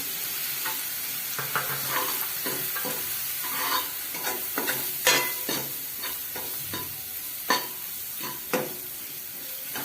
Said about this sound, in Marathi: आता आपण याच्यात हे लसूण खोबऱ्याची पेस्ट टाकणार आहोत आणि कोथिंबीरची।